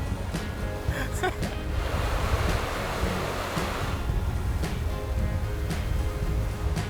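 Open ocean waves wash around an explorer yacht at sea, a broad continuous hiss of surf with wind buffeting the microphone and a few sharper splashes, steady and moderately loud throughout.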